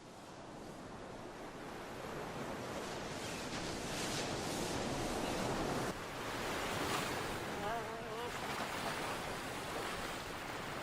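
Ocean surf rolls steadily along a sea coast, a continuous loud wash of breaking waves with wind noise, no voices.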